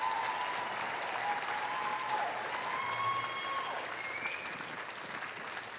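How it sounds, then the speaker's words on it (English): Sustained applause from a banquet audience at a Springfield area sports Hall of Fame ceremony, even, moderately distant clapping that continues steadily without a break. "Give her a big round of applause."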